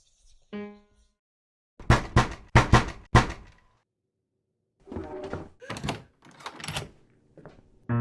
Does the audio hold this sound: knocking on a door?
yes